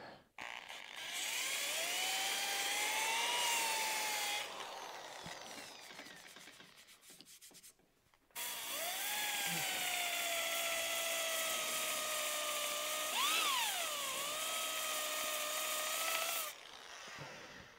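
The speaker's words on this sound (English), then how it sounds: "I'm sanding downhill off the edge." A high-pitched whining power sanding disc grinding against a natural-edge maple burl bowl in two long passes, with a short quieter pause between them.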